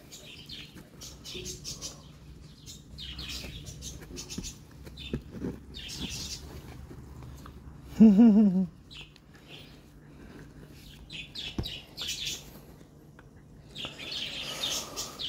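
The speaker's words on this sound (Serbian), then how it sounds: "Papagajčići su tu." Pet little parrots chirp and tweet in a home, giving short, bright calls scattered through the scene over ongoing talk and handling noises, with one louder burst of chirping partway through.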